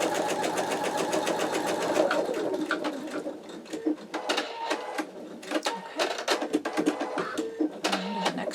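Embroidery machine sewing an in-the-hoop wallet: a dense, steady stitching whir at first, then a pause and a series of short, clicking lock-stitch bursts and hoop movements.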